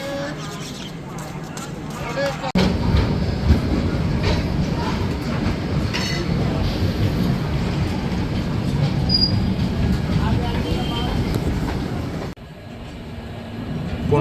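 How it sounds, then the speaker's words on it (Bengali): The Howrah Kumbh Express pulls out of Laksar junction in India, with steady rumbling, rhythmic wheel clatter and occasional high squeals heard from on board, under talk. "ট্রেন এখন লক্সর জংশন ছেড়ে বেরিয়ে যাচ্ছে"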